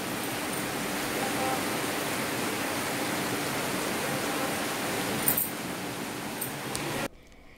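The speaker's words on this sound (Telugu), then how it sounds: "బయట భయంకరంగా వర్షం ఆల్రెడీ స్టార్ట్ అయిపోయిందనమాట" Heavy morning rain outside the house makes a dense, steady hiss at moderate level that runs unbroken, then cuts off abruptly near the end.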